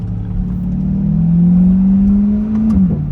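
A Corvette GT4 R racecar engine drones loudly and steadily up close, its pitch climbing gradually as it revs, then dipping briefly near the end. No one speaks.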